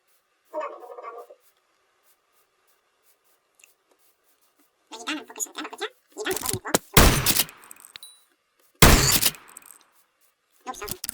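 Enemy gunfire in a video game: loud, sharp shots come in two heavy bursts, with scattered quieter game sounds around them and voices talking earlier in the stretch.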